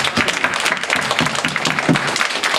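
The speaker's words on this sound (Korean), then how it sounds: "정말 수고하신 모든 분들께 다 같이 한번 박수로 한번" A church congregation at a Tuesday gathering bursts into brisk, close applause, many hands clapping densely and evenly throughout.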